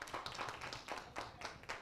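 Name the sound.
applause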